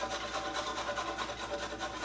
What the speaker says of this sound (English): So I'm going to use the biggest side of my cheese grater that I have.